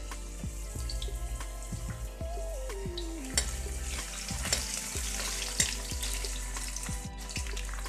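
Steady sizzling of garlic cloves and ginger pieces frying in hot oil, with occasional clinks and scrapes of a utensil stirring in the pan.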